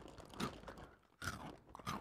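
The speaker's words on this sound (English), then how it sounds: "Can you stop chewing in the mic?" Close-miked chewing right into a microphone, moist crunching bites in a few bursts separated by short pauses, loud and intimate with no talking.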